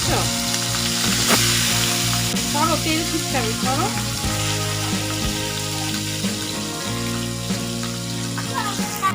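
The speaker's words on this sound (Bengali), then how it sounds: "বেশি কড়া করে মাছগুলো ভাজবো না" Bata fish fry in oil in a pan with a continuous, crackling sizzle that stays close and fairly loud, while faint steady tones run underneath.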